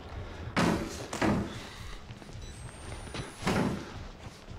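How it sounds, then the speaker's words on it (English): A locked door being tried in the horror game Outlast: three heavy, rattling thuds as the handle and door are jolted, two in quick succession and a third after a pause, over a low dark ambience. "The door is locked."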